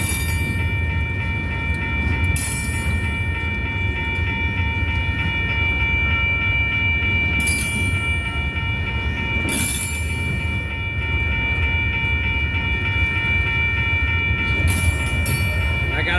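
A freight train rolls past on the rails, a steady loud rumble with rhythmic wheel clatter and bursts of high squeal, continuous and close throughout.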